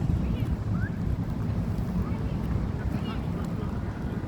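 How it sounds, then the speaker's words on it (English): Strong outdoor wind buffets the microphone, producing a continuous low rumbling roar with steady gusting that fills the whole stretch. "this wind is going a little crazy"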